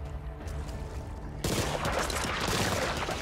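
Rapid-firing gun in Back 4 Blood, a quiet engine-like hum that abruptly gives way to a loud, continuous burst of fast automatic fire lasting to the end, with no speech.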